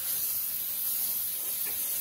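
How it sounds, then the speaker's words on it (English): Cooking spray hisses from a can onto a baking tray for rolls and burgers, one continuous close spray lasting about two seconds with no talk over it. "I'm going to spray my tray because it's going to go in the oven"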